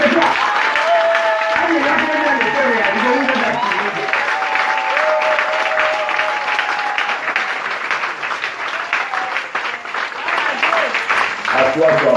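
A church congregation applauds at a service, a dense sustained wash of clapping that lasts throughout, with held musical tones and voices rising over it.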